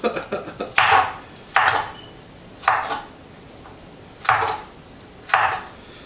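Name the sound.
knife chopping an apple into apple fries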